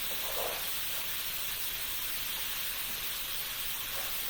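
Steady, close sizzling hiss of food frying in a hot pan while cooking, unbroken and fairly loud from start to finish, with no talking.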